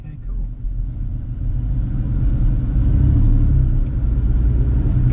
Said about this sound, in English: let's take a drive in the 964 Jubilee